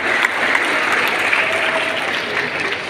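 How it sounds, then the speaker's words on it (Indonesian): An audience at a university graduation ceremony claps together in a dense, sustained burst of applause that stays loud and even throughout, with no clear pauses. "tepuk tangan untuk kita bersama"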